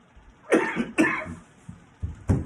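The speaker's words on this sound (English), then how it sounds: "let me get past the cough here" A few rough coughs in succession after smoking a cannabis strain, close and fairly loud, with short pauses between them.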